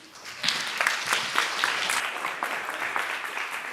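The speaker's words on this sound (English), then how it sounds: "So applause for our last speaker with his talk about funneling chaos." Audience applause at a science-communication competition final, moderately loud and lively, with individual claps audible in an uneven patter that stays steady throughout.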